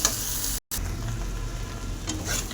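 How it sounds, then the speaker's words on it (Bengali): Coriander powder being stirred into a hot frying pan, a steady close sizzle with a soft scrape of stirring and a brief dropout partway through. "অল্প করে ধনে গুঁড়ো, দিয়ে ভালো করে আমি নেড়ে দেবো"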